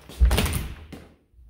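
A coat closet door in a house closes with a single short thunk, followed by a faint second knock and then quiet.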